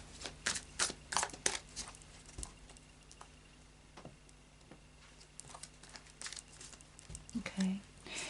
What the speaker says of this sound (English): we'll just do a final shuffle